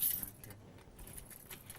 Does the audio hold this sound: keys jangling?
yes